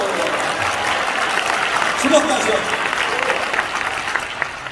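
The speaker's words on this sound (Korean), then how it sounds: "할렐루야! 영광의 박수!" A church congregation claps together in a steady, dense burst of applause that fills the whole stretch, with a voice speaking briefly over it.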